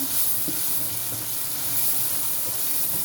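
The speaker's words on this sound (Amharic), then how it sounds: "አሁን እዚህ ጋር ሳልሳ ጨመርኩ።" Salsa hits a hot pan of pasta sauce and sizzles steadily, a dense close hiss with a few soft stirring knocks underneath.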